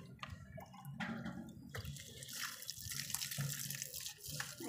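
Water poured onto plants in a small home garden, a steady splashing, trickling flow close by, running continuously with small spattering bursts and no talk.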